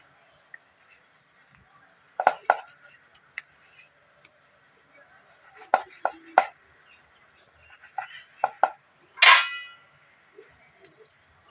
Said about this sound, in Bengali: এরকম ভাবে এবার একটা ছুরির সাহায্যে আমি কেটে নেব।